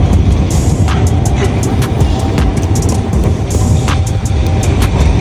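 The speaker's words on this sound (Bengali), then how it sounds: "ট্রাম যাচ্ছে" A tram rumbles past nearby on a street in Norway with a steady low roar and rattling, continuous throughout with clanking and street noise mixed in.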